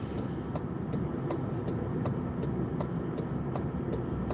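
A Ford Crown Victoria, weighing about 4,000 pounds, cruises at 60 mph: steady interior road and engine roar with a faint regular ticking running through it.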